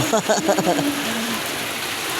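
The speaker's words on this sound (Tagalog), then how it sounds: "lalo pang lumakas ang ulan" Heavy rain pours down steadily as a dense, close hiss that thickens, with a few brief spoken sounds over it at the start.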